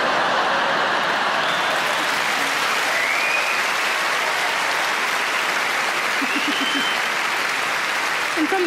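A stand-up comedy audience claps loudly and continuously, a thick, even wall of applause mixed with crowd noise and faint cheering throughout.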